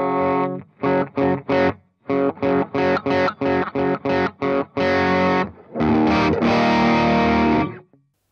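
An electric guitar plays a crunchy, mildly overdriven tone through a Morgan AC20 amp: a quick run of clipped chord stabs, then longer chords left ringing.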